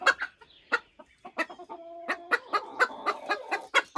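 A Silkie hen clucks while being handled, giving a close series of short, uneven clucks and a brief drawn-out murmur in the middle.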